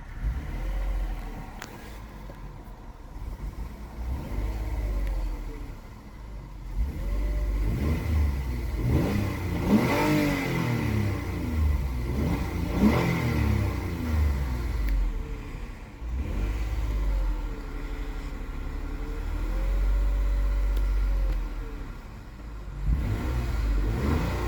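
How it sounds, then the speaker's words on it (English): A 2021 Lexus RX350 engine idles and is revved several times, each rev rising in pitch and easing back down over a steady low idle rumble, heard close with no talking. "And we'll go ahead, give it a few revs."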